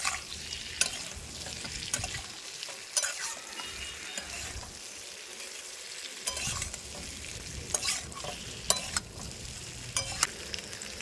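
Bengali rice-cake pithe frying in hot oil, a steady broadband sizzle with occasional sharp crackles and spatters and brief quieter lulls, close and continuous with no voices.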